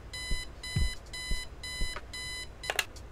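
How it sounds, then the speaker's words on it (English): An electronic alarm clock in the video game Kathy Rain beeps in a steady, rapid pattern of about five bright bursts, each separated by a short gap, with no one talking. "Look at alarm clock? Sure, let's look at it."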